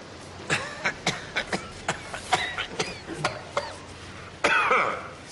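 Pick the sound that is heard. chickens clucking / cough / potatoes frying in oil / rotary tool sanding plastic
cough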